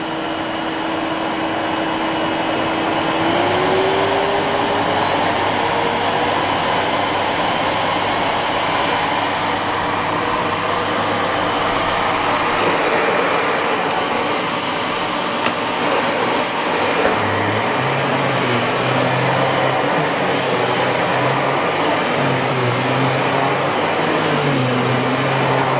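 A Miele S7510 upright vacuum cleaner runs steadily and loudly throughout, its motor giving a continuous whine with a droning roar, and the pitch shifts slightly partway through as it moves over carpet.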